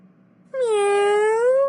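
A person imitates a cat's meow in a library: a single drawn-out, clearly voiced mew about a second long, loud and close, rising in after a brief quiet start.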